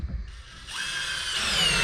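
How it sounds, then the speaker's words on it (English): Power drill driving a screw into a piece of wood during drywall and outlet work, its whine starting up and rising in pitch and loudness as the motor spins, close and alone. "let me start with trying to get this piece of wood screwed in"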